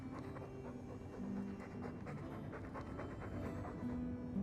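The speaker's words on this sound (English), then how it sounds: "All that noisy dog breath, day in, day out." Steady, rhythmic dog panting from a companion dog in the fantasy role-playing game Dragon Age II, quick breaths repeating continuously and fairly close over a low hum, with no speech.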